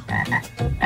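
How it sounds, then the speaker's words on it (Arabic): A frog croaks in a few rough, pulsing bursts, close and loud, with no voices around it. "أو لا، ضفدع"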